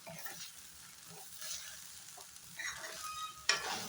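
Chicken fried rice is stirred in a pan over a raised gas flame, giving a steady close sizzle with scattered scrapes and a sharper clack of the utensil near the end, without speech.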